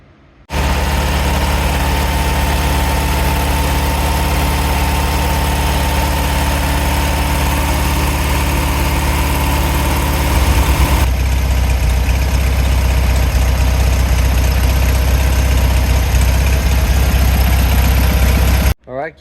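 A rebuilt 1600cc VW Type 1 air-cooled engine runs steadily at close range after its first start, a loud, even idle with a slight change in tone partway through before it cuts off.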